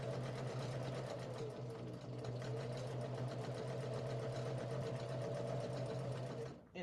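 A sewing machine chain stitches quilt strips for a four-patch block, running in one steady, unbroken hum for several seconds, close and loud with no voices over it.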